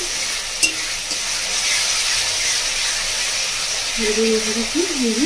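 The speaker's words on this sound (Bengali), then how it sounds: "দেখুন বন্ধুরা মশলাটা ভালো করে ফুটে গেছে।" Spice paste with a splash of water bubbling and sizzling in a pan for fish khichuri, a steady broadband hiss with a stir or clink early on and a voice speaking near the end.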